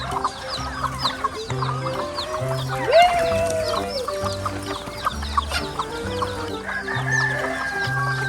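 Many chickens cluck and chatter close by while a rooster crows loudly midway, over a busy barnyard background with no speech.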